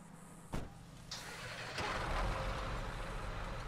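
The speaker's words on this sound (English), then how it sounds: "I'm gonna go ahead and get my truck started." A Ford truck in GTA 5 cranks and starts with a sharp click and air-brake hiss, then settles into a louder, steady idling rumble.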